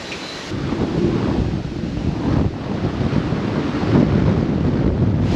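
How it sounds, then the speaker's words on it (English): Sudden strong wind gusts roar through the canopy high up in a giant tingle tree, a steady broadband rush that swells and buffets the microphone throughout with no speech. "It got so windy all of a sudden."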